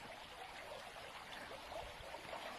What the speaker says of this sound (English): I'm just going to come over the bridge now so you can hear the sound of the water running beneath.